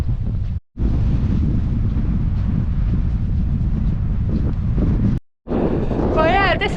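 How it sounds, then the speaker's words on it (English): Strong wind buffeting a microphone on a pier on the south coast of Mull, Scotland, roaring loud and continuous with two brief dropouts, a voice speaking briefly near the end. "The wind's pretty strong, so sorry, I don't know how well you can hear me"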